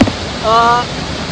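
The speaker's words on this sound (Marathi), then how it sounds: "कारण धबधब्याचाच आवाज एवढा जास्त आहे" Loud, broad roar of a waterfall swollen by heavy rain filling the whole clip, with a brief voice rising over it.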